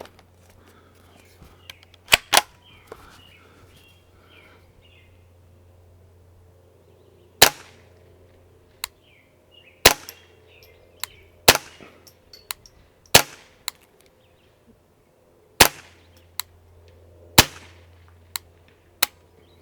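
A suppressed Ruger 10/22 with an integral YHM barrel fires Winchester M22 ammunition: sharp, isolated cracks in irregular single shots and quick pairs, with faint handling sounds and a low hum between them.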